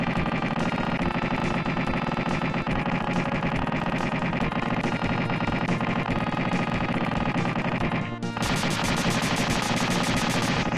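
Rapid automatic weapon fire in the SNES video game Earth Defense Force, a dense, continuous, distorted barrage that runs without a break, loud and alone, with a brief dropout near the end before the firing resumes.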